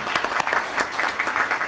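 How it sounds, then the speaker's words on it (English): Applause from a meeting audience honoring a police chief, a dense burst of many hands clapping, moderately loud and steady throughout. "For Chief Foligno, one round of applause,"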